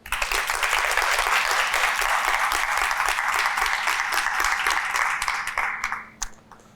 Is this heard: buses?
no